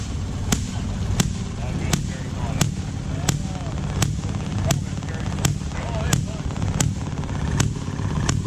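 A small Maytag engine at a tractor show firing through a makeshift gun, sharp loud pops about every three-quarters of a second in a steady rhythm, close over a continuous engine rumble and outdoor background noise.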